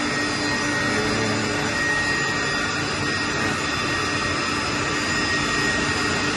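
Chiller motor with a magnetic bearing running in a plant room, a steady whirring whine with faint tonal lines that stays constant throughout.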